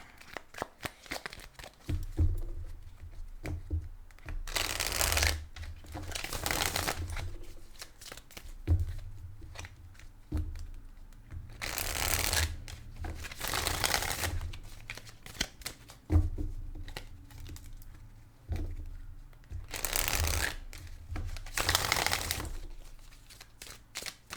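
A fairly new deck of cards is shuffled again and again, with crisp riffling bursts repeating several times and softer handling and squaring of the deck between them, close and clear.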